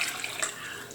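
Water pours into a container as the base for a Kaltschale mix, a brief bright splashing stream heard alone and close.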